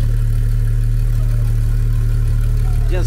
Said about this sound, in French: Vous faites beaucoup de bruit avec votre GT3